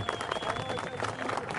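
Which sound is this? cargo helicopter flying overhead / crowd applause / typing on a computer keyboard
crowd applause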